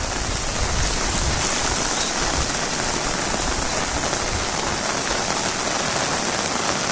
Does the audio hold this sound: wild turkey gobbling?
no